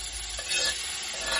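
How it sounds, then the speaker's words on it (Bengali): Chicken pieces hit hot oil in a pot for chicken biryani, giving a close, steady sizzle and crackle with a brief stirring swell in the middle. "আমি এখন হাঁড়িতে তেল দিয়ে নিলাম এবং মাংসগুলো দিয়ে দিচ্ছি"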